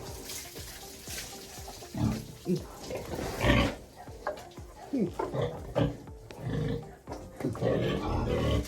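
Grunts and snorts of a pig close by while it is being bathed, mixed with splashing water and a voice speaking now and then.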